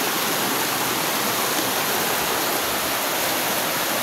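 A strong, steady rush of water gushing out of a hole, broadband and constant, loud and close with no pauses.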